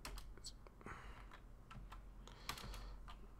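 Rapid, uneven keystrokes on a computer keyboard while coding in a Python notebook, close and fairly quiet, with a faint steady hum underneath and one sharper tap near the end.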